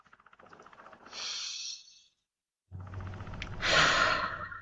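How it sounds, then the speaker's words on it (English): Two slow, audible breaths, a long inhale then a fuller exhale, follow each other with a brief pause between them, close and breathy. "let's just take a few breaths together"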